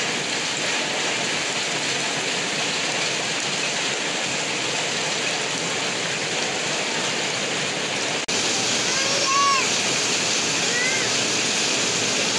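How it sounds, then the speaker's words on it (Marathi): Heavy rain pours down steadily outdoors, a loud, dense, unbroken hiss that fills the whole stretch, with a few faint chirps or voices surfacing faintly in the second half. "पाऊस लय पडता, लय म्हणजे लयच पडते बघा."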